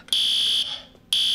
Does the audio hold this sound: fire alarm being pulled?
yes